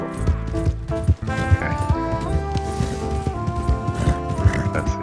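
Horse hooves clip-clop in the Red Dead Online video game, a steady rhythmic trot under continuous game music and ambience, with a brief snort or whinny-like burst partway through.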